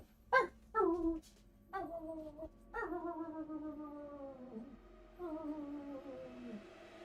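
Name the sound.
puppy dog whimpering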